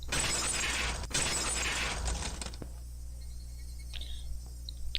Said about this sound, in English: The unpleasant, piercing sound of shattered glass